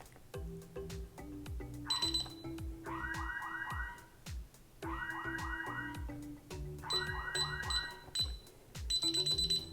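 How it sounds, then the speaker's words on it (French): DSC Power Series security keypad sounding its fire alarm alert, loud repeating electronic beeps and warbling chirp tones cycling in bursts over a low pulsing pattern. "il suffit de le maintenir pendant 2 secondes pour déclencher une alerte"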